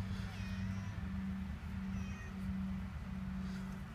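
A cat gives a few faint, thin meows over a low steady hum in a workshop setting, with no one speaking.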